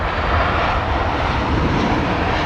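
An aircraft approaching London Heathrow Airport, its engine roar loud, close and steady throughout, with no talk.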